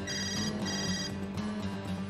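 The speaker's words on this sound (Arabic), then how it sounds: "تليفونك عم يرن." A phone ringtone plays as a steady repeating electronic melody in a short burst, moderately loud, with no voices over it, in an Arabic-dubbed drama.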